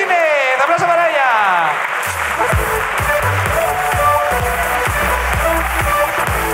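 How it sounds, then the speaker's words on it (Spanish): Audience applause for Cristina Martínez at a live comedy podcast recording, loud sustained clapping and cheering with music and voices rising underneath partway through. "¡Aplauso para ella!"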